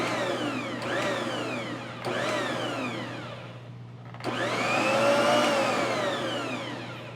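A Bosch Universal Plus stand mixer mixing bread dough made with fresh milled flour for dinner rolls, its motor whirring steadily over a constant hum and surging in three strong swells as the load shifts.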